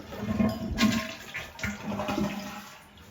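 A household toilet is flushed, with a steady low rushing of water and gurgling surges that swell and fade over a few seconds, heard close up in a quiet room.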